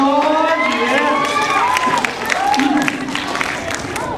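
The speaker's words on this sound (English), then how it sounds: "Big round of applause." An elementary school audience at a magic show claps and cheers loudly, with high children's shouts and squeals over dense clapping close by.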